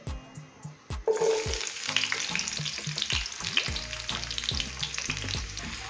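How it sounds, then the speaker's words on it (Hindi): Finely chopped onion hits hot cooking oil in a wok. A loud, steady sizzle bursts in after about a second and carries on close and continuous, with no voices. "प्याज डालने के बाद हम प्याज को हल्का सा फ्राई करेंगे"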